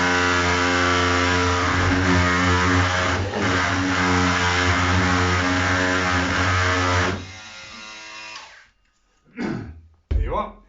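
A power saw trims the end of a floorboard, its motor whining at a steady, loud pitch for about seven seconds before cutting off, followed by a few brief knocks and bumps.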